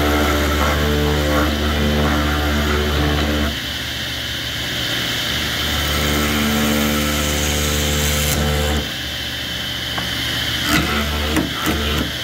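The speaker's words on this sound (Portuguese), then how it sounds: "Eu vou fazer o furo aqui" A drill bores a hole in a small piece of iron during the building of a metal bar stool, a steady, loud motor drone with a slight dip in pitch partway through as the bit bites.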